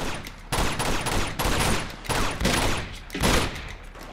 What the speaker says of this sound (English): The hell, where am I being shot from?